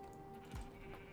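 A single soft sheep bleat from Minecraft sounds faintly over a steady hum of lofi music, with a light click nearby.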